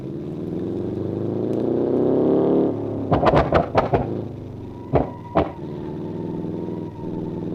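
A small car in BeamNG.drive revs hard with a rising, strained engine note, then a burst of sharp clattering knocks and two more clunks as the engine settles to a steady drone; no speech.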